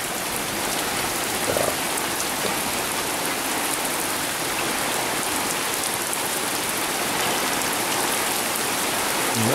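Heavy rain pours steadily down around a hut during a hot-weather thunderstorm, a dense continuous hiss of drops on surfaces that stays loud and unbroken throughout, with no voices.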